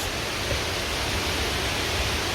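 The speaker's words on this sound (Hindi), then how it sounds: "यहाँ से हल्का हल्का दिख रहा है वाटरफॉल" Marmala Waterfalls at Vagamon, Kerala, seen from a distance: a steady, even broadband rush of falling water fills the whole stretch, with no voices and no change in level.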